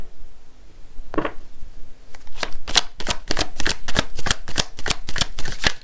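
A deck of oracle cards being shuffled nearby: one brief riffle, a pause, then a run of quick, crisp, evenly spaced card snaps that fills the rest of the moment.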